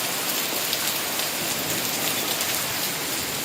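Cold rain mixed with hail patters and hisses in a continuous, even downpour near Bankya, close and steady with no voices.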